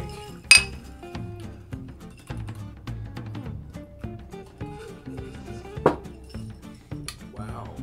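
Glasses clink together in a toast at a home craft session, one sharp bright clink near the start and a softer one later, set against low background room noise and quiet talk.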